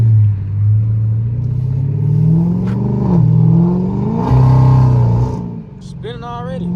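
A Dodge Charger Scat Pack with about 500 horsepower accelerates on wet tires in track mode, the engine droning and rising in pitch with a loud, steady rumble close by. People talk over it.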